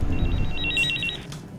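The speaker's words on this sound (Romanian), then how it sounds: "Îți sună telefonul într-o veselie." A telephone rings indoors with a bright, repeated trilling bell that sounds steadily for about a second and then stops.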